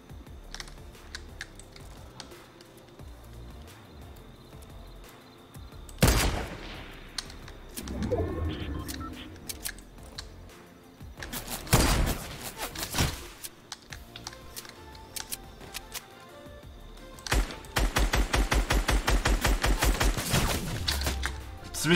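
Gunfire in the Fortnite battle royale, heard as several sharp bursts of shots, including a dense rapid volley near the end, over quiet game ambience with clicks in between.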